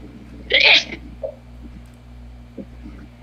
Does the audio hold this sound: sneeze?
yes